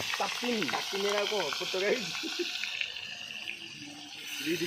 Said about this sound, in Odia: ରହ ଭାଇ ଟିକେ ତେଲ ତାତୁ ତ